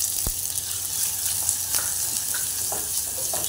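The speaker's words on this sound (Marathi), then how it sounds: "आता याच्यामध्ये मी बारीक चिरलेला कांदा घालणार आहे." Finely chopped onion hisses and crackles steadily in hot oil with curry leaves and garlic, a continuous close sizzle with a few soft stirring knocks and clicks.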